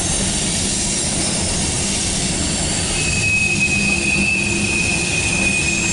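CSX mixed freight train rolling past at close range, a constant heavy rumble of wagons with a thin, high-pitched wheel squeal that rises and holds through the second half.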